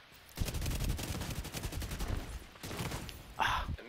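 Gunfire in the video game The Division 2, including shotgun blasts, sounds as rapid repeated bursts of shots through most of the stretch, fairly faint, with a brief louder burst near the end.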